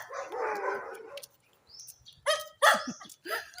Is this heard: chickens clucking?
no